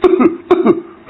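A person coughs in close, loud bursts: a pair of coughs, a second pair about half a second later, then one more near the end, with no talking.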